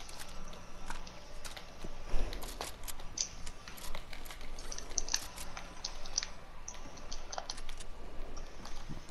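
Computer keyboard keys click quietly and irregularly, a steady patter of soft taps with one louder thump, close by and otherwise uncluttered.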